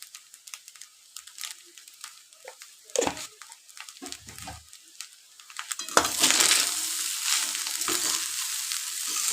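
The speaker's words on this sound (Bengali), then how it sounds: "এবার মিশাতে থাকুন হালকা হাতে" Rice with a little sugar and turmeric fries in a pan while being stirred gently, first as sparse scrapes and clinks, then as a louder, continuous sizzle that builds toward the end.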